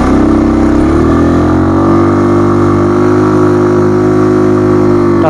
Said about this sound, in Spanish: Tan solo vean cómo se fuerza un poquito más el motor.